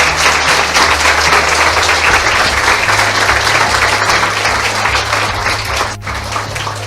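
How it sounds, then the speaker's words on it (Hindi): Loud, sustained applause from a church congregation at a Christian preaching service, a dense steady wash of clapping for the whole stretch with a low musical hum underneath. "आइए यीशु के लिए ताली बजाएंगे जोर से"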